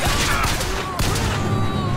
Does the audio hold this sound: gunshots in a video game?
yes